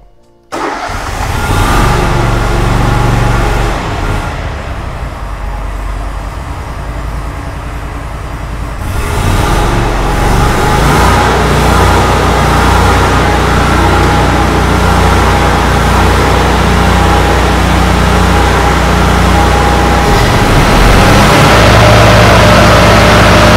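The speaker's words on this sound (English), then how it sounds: "I'm going to probably let this run, and then we'll kind of talk about what I was checking for afterwards" A zero turn lawn mower engine cranks and catches after a brief silence, then idles and runs steadily with a loud, constant mid-pitched drone that rises slightly partway through, close by and alone.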